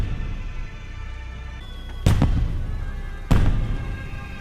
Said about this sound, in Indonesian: muncul kembang api yang membuat malam menjadi sangat indah